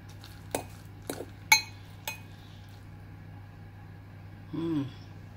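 Cutlery clinks several times against a dish of baked eggs with pork sausage, four sharp metallic taps close together, then a brief muffled scrape, all close and fairly quiet.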